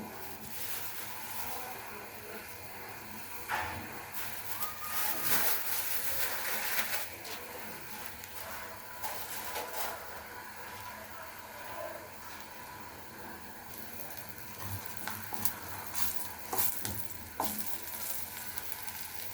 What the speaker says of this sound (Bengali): তেলটা গরম হয়ে গিয়েছে, সাইডে একটু কালো জিরে দিয়ে দিব।